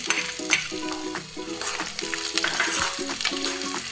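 Onion goes into hot oil already holding cumin and cinnamon for a dry soybean dish, giving a lively crackling sizzle with stirring scrapes, while steady tonal notes sound in the background.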